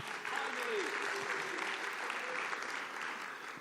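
A conference audience applauding steadily at a closing ceremony, a dense wash of clapping that holds at even strength for a few seconds before easing slightly.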